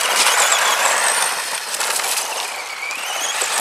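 A Tamiya DF02 Aero Avante radio-controlled car with a Sport Tuned motor and stock gearing running off-road, its electric motor giving a steady high-pitched whine that rises and falls as it drives.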